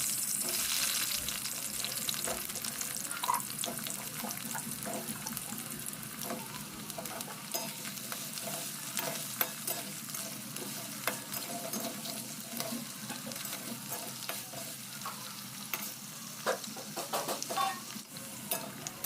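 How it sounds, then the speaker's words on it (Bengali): Potatoes fry in hot mustard oil for an Alur dom, a steady close sizzle with scraping and stirring throughout and short clinks over the hiss, and no voices. "তেল গরম হয়ে গেছে, এর মধ্যে এবার আমি আলুগুলোকে দিয়ে দেব, দিয়ে একটু হালকা ভেজে নেব।"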